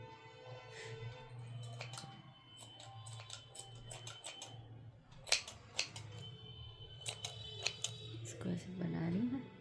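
Scissors snipping unravelled wool, scattered sharp clicks and cuts of uneven rhythm, close and fairly crisp, with a voice talking underneath and a brief rising vocal sound near the end.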